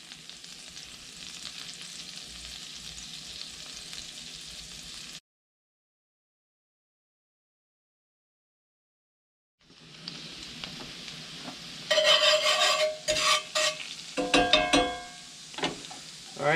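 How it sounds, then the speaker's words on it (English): Half a stick of butter melts and sizzles in a pan, a steady close hiss that cuts out briefly, then returns with a burst of louder crackling and spattering. "We're going to toss in a half a stick of butter. It's going to be about 4 tablespoons of butter there. Go ahead and get that melting down real good."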